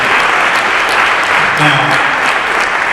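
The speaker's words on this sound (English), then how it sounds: "Let's give him a round of applause." Loud, close audience applause for Dr. Dudley Flood at a Black History teach-in, a full, sustained burst of clapping with a voice briefly rising through it midway.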